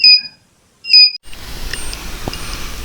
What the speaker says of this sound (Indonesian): ini tampilan alarm level 3 dimana aktuator mulai bergerak dengan cepat atau melakukan toggle dengan cepat baik LED maupun buzzer